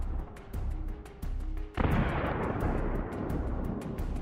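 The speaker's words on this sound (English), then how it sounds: "the Russian IFV caught fire and soon exploded" A Russian infantry fighting vehicle, set ablaze by Bradley fire, blows up in one sudden powerful blast that gives way to a sustained roaring rumble, following a stretch of rhythmic distant booms.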